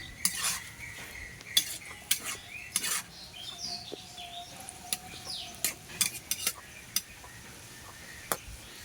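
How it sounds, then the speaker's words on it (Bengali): A spatula stirs boiled potatoes and eggs in a pan, giving scattered scraping clinks and knocks of metal against cookware at an uneven pace, near and moderately loud, with a faint background whistle and no speech. "2 মিনিটের জন্য আমি এটা তুলি দিয়ে একটু নাড়াচাড়া করে দেবো।"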